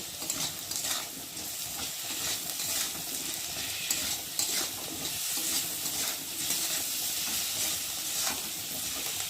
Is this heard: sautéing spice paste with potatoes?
yes